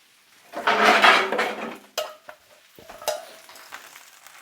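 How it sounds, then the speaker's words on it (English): Metal pan lid set down onto a frying pan of sizzling greens at an outdoor backyard breakfast, a loud clatter and scrape followed by a couple of sharp clinks, with faint frying underneath. "Set a pan lid on there."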